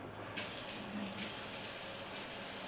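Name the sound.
washing a cutting board under hot running tap water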